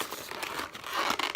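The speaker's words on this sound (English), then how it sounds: "I'm just ripping the box." Cardboard box of a Nintendo 3DS XL Pokémon case being ripped open by hand: soft, close crinkling and tearing rustles that build slightly toward the end, fairly quiet, with no talking.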